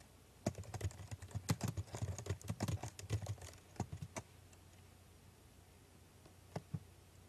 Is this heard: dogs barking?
no